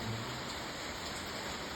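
Rain falls in a steady, dense hiss at moderate distance, with no other sound standing out.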